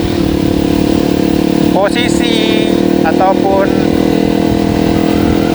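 A Yamaha WR155R motorcycle engine runs at a steady, loud idle drone throughout, with someone talking over it.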